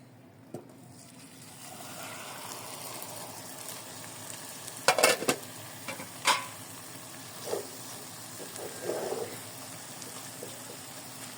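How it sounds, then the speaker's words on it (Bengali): A spiced mix with nigella seeds fries in mustard oil in a pan on the stove, a steady close sizzle running throughout, broken by a few sharp utensil clinks and scrapes. "এখন চুলায় বসিয়ে দিব অবশ্যই সরিষার তেল দিব"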